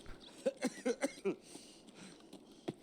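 A character in SPT Tarkov, a video game, coughs in a quick cluster of several short coughs, then a couple of fainter ones, fairly quiet with no talking.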